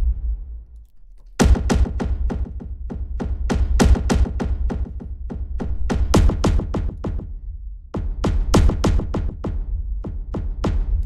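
Tribal punk folk drums from the Berserkr library play a pounding, evenly spaced beat with deep booming hits and crisp attacks. After a quiet low-drum lead-in, a brief gap near the end marks a skipped step before the pattern resumes.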